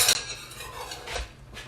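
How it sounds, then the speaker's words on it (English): A metal ladle clinks and scrapes against a pot while scooping French onion soup into mugs: a bright clatter at the start, then softer stirring and scraping, close and with no voices. "I'm going to grab a ladle right over here."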